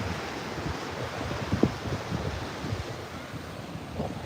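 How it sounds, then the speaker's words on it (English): Strong wind off the water at Dumaguete in the Philippines buffets the microphone in a steady low roar, and waves and surf wash underneath it, with no talk. "it's definitely really windy by the water. Probably would definitely interfere with the sound quality"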